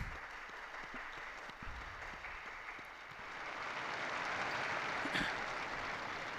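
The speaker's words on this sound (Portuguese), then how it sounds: "Um aplauso ao novo beato" Crowd applause for a newly beatified person at a papal Angelus gathering in St. Peter's Square, a broad, steady wash of distant clapping from a large outdoor crowd that swells slightly toward the end.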